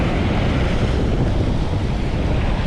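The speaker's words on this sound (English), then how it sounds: "And as you can hear when I turn this way, wind." Wind buffets across a wide open stretch of river on a boat, a loud steady roar of gusting air and microphone rumble with no voices.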